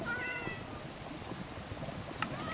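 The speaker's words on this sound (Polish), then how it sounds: "Weź ode mnie te koty." Cats meowing in the Minecraft video game, a couple of high, wavering mewing cries near the start and a brief chirp toward the end, over a steady low background rumble.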